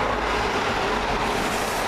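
The Cornishman passenger train, Penzance to London Paddington, roars by close at hand at Teignmouth, a dense, steady rush of wheel and rail noise.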